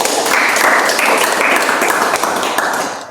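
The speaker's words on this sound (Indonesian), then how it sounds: "terima kasih, tepuk tangan untuk Anissa" A classroom audience at a vocational high school claps for a student named Anissa, a dense, loud, steady patter of many hands that continues throughout and tapers slightly at the end.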